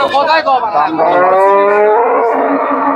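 A Friesian dairy cow lows loudly and close by at a Bogura cattle market, one long drawn-out moo filling the moment with no talk.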